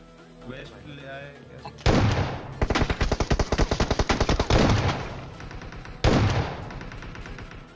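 S12K shotgun fire in a mobile battle royale video game, heavy booming blasts and a rapid string of repeated shots, with a voice talking over the gunfire.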